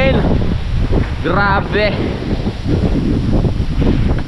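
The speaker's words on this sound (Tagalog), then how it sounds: "Lakas ng hangin." Strong wind buffets the microphone with a loud, continuous roar; a person's voice cuts in briefly partway through.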